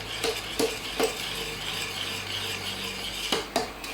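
A spoon stirs a sugary malt loaf mixture in a bowl, giving a series of close, crisp scrapes and clinks at an uneven rhythm over a quiet background, with no talking.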